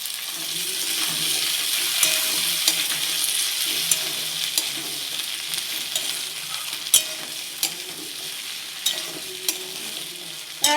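Okra sizzles as it fries in a pan, a steady hiss broken by repeated clinks and scrapes of stirring, close and clear with no talking.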